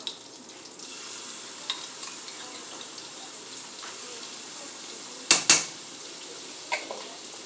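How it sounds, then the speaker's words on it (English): Garlic cooking in butter in a pan while shrimp pasta is made, giving a steady soft sizzle throughout, with a few brief clinks of a spoon or pan near the end. "Let that garlic cook inside that with that butter just to warm it up real good"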